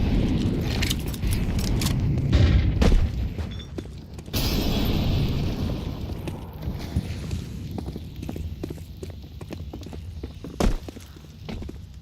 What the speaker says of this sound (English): Oh, and the nade to break.